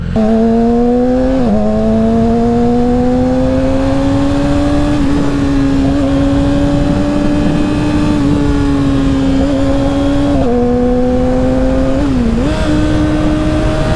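A Yamaha R6 sport bike engine drones loud and close, its pitch stepping down through several downshifts with brief revs between gears.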